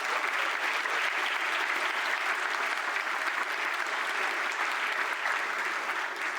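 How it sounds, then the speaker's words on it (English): Sustained audience applause at a university honors convocation following faculty awards, a dense, steady clatter of many hands clapping from start to finish at an even level. "Please join me in one more round of applause for some of our faculty awards."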